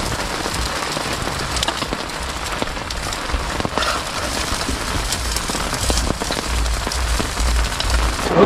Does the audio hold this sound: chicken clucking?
no